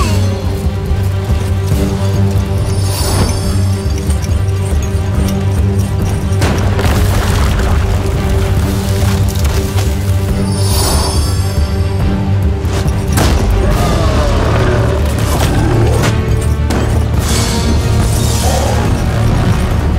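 Cinematic orchestral soundtrack made with a Hollywood fantasy orchestra library, layered with sound design booms and hits, dense and loud throughout with repeated heavy impacts over sustained low strings.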